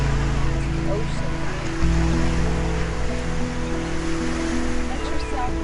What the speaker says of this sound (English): the ocean.